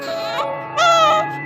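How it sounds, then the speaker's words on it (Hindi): An infant cries in loud, wailing bursts, with a short pause before a stronger, rising wail, heard alone as a sound effect in an animated Hindi story about a baby found in a large garbage bin. "उस बड़े से कूड़ेदान से एक बच्चे के रोने की आवाज आ रही थी"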